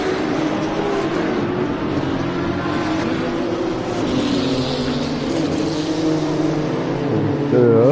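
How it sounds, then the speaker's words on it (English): A field of racing cars, BMW M2 and GT2 machines at Imola, pulls away together in a dense, sustained roar of many engines that holds steady throughout, with a louder engine surging close by at the very end. "Loads of engines."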